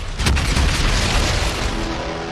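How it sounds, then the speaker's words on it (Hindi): Heavy shelling in Mykolaiv, Ukraine, rumbles as a deep, sustained boom with a sharper burst near the start, then a long rolling decay; no voices. "बम बारूद और धमाके, यही यूक्रेन की हकीकत है।"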